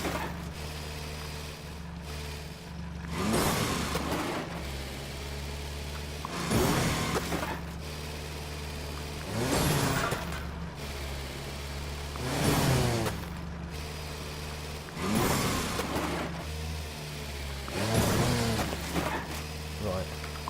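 Tractor driving in the farming game Farm Together, a steady engine hum with regular whooshing surges every few seconds, moderately loud and close, with a person talking over it.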